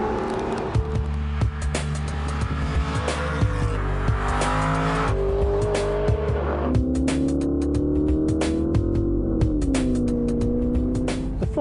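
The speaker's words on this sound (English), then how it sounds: "Aston Martin is now bringing me a Virage convertible for an afternoon drive in the countryside" A 490-horsepower Aston Martin Virage convertible on an afternoon countryside drive, its engine droning steadily and loudly throughout with rising and falling pitch as it accelerates and shifts, with no talking.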